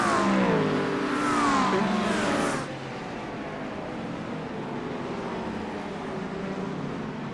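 GT3 race cars roar at Okayama in a racing video game, a loud pack of engines revving hard for the first few seconds, then settling into a steady, slightly quieter drone of several cars running together.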